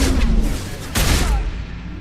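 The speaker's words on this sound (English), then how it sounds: "especially when followed up with a point-blank blast from a spec'd-out shotgun" A point-blank shotgun blast from an upgraded shotgun in the video game Mass Effect 2, heard as a loud booming burst amid dense game combat noise, with a second strong report about a second in.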